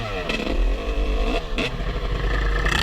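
A quad ATV rides past on a dirt trail, its engine revving loud and close with rising and falling growls and a rattling clatter.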